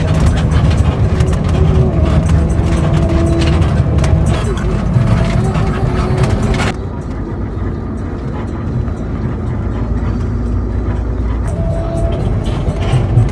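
Steady, loud engine rumble and road noise from inside a moving Sinar Jaya bus, continuous throughout, with the high hiss easing partway through.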